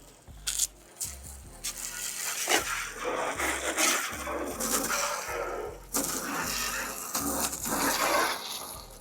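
A garden hose sprays water steadily over a surface being cleaned of grit and grime, making a continuous rushing hiss with low, irregular thumps underneath, close and moderately loud throughout.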